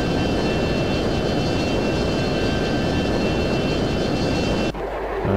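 An F-22 jet in the Total Air War flight game roars steadily at high altitude just above the speed of sound, a dense continuous rushing drone that thins abruptly near the end.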